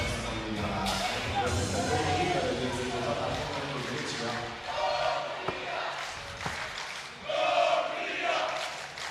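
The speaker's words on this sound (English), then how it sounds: "But the crowd here very loud." A loud crowd roars and cheers at a FIBA 3x3 U21 Europe Nations League basketball game, the noise swelling in waves with occasional ball thuds and a sports commentator talking over it.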